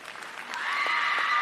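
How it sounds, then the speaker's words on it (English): Applause from an audience at a state FFA convention in Kentucky, a sustained wash of clapping that builds from moderate to fuller and louder, heard alone without talk. "Let's give all of our regional and state stars another round of applause."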